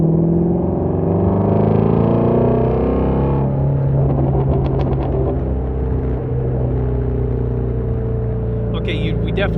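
A Ford Mustang GT350's V8 exhaust in third gear rumbles loudly from inside the car, with a deep steady drone that shifts pitch partway through under a low cabin hum.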